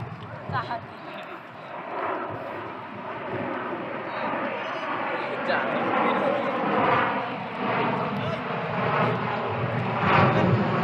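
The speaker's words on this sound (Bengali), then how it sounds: "আকাশ দিয়ে জাহাজ উঠে যাচ্ছে অনেক কাছ দিয়ে" A fixed-wing airplane flies low overhead beside the Padma River, its engine roar loud and sustained throughout, with voices nearby.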